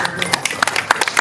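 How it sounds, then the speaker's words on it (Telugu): A crowd at a political party joining event in Nellore claps in a quick, scattered patter of sharp hand claps lasting about a second. "అందరూ గట్టిగా చప్పట్లు కొట్టండి."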